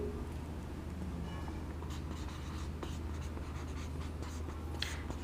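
A pen scratches steadily across a board or paper as a definition is written out during a surveying lecture on contours, over a constant low hum with no talking.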